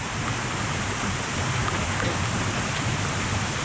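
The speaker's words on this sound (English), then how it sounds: "I'd like to point out it is raining, and we are at a waterfall." Steady rain pours at an outdoor waterfall, a dense, even hiss of falling water with no voices.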